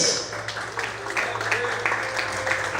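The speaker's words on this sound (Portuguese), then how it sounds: "Quantos podem aplaudir e exaltar a Deus bem forte, aleluia." Congregation applauding during a Brazilian church service, a steady patter of many hands with scattered sharper claps and voices mixed in throughout.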